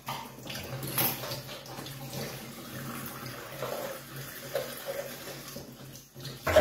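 Water runs and splashes from a tap into a container, holding steady for several seconds with a brief gurgling dip near the end.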